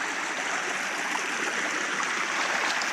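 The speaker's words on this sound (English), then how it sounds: "pipe feeding from up above there and coming down here into the bucket" Water pours steadily from a pipe fed from above into a bucket on a farm water system, a constant dense splashing rush, close and loud, with no voices.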